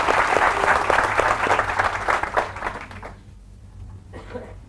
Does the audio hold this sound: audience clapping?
yes